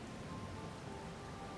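Steady rain falls in the video game Farming Simulator 22, a faint, even, continuous patter with no distinct drops standing out and no voices.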